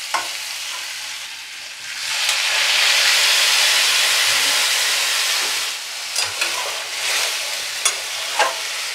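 Water hits a hot pan of spiced raw papaya with chickpea lentils in a Bengali vegetarian curry, a loud rising sizzle and steamy hiss that settles, followed by a few stirring clatters.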